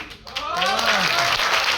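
An audience claps in a training session, a dense, sustained patter of applause rising quickly and continuing while someone speaks over it.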